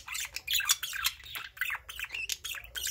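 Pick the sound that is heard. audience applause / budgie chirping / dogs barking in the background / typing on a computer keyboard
budgie chirping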